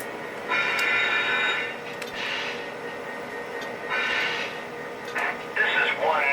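A freight train pulled by three engines rolls out with a low, steady rumble and bursts of rail noise, while a voice speaks over it.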